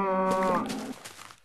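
A cow in the video game Minecraft lets out a single loud, close moo with a strong tonal drone that fades into a softer, noisy tail.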